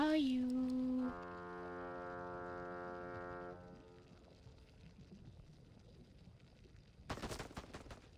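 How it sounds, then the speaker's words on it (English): Video game gunfire: a short, loud burst of rapid shots near the end, following several seconds of a steady, droning tone and quiet background. "Oh, he's shooting me."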